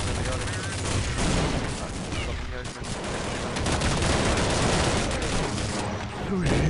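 Rapid gunfire from a first-person shooter video game, sustained bursts and volleys filling the whole stretch at steady loudness, with a voice talking faintly underneath.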